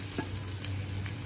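An egg fries in a pan, giving a soft, steady sizzle with a few faint stirring ticks, quiet and brief, with no voices.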